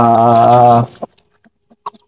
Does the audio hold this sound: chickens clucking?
yes